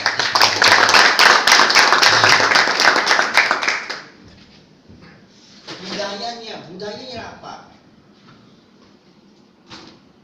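An audience at an internal business meeting claps in a dense burst for about four seconds, then the room goes quiet and a person talks briefly.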